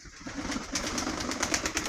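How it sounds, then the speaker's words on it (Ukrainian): Hungry pigeons coo softly and repeatedly close by in a village yard, their low murmuring calls running steadily with some higher rustling above them. "голуби у мене зголодніли. Кликали мене тут, кликали, туркотіли, туркотіли"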